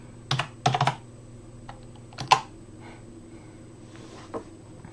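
Short quick bursts of key presses come from a computer keyboard, a few clustered clicks close by with pauses between them and faint background hum.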